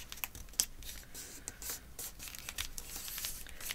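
A small strip of scrapbook paper is folded in half by hand, giving close, soft crinkling and rubbing sounds with brief crisp creases.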